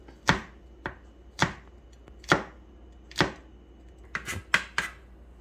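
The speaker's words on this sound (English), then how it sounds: "we are going to take garlic cloves and we are going to cut it" A knife chops garlic cloves on a board with about nine sharp, close strikes at an uneven pace, each one clear against a quiet background.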